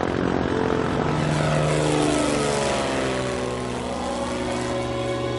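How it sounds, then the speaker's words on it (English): A small propeller airplane takes off from a runway, its engine a loud, steady drone with a rough buzzing whine that fills the whole clip close by and eases off slightly toward the end. "you are clear for takeoff on runway 27."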